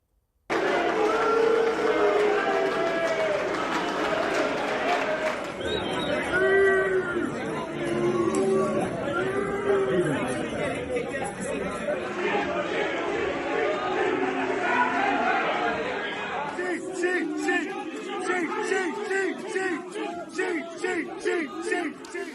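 A cricket crowd at Lord's roars in loud, sustained outcry, with shouting, booing and jeering chatter swelling in waves across the ground, close and dense throughout.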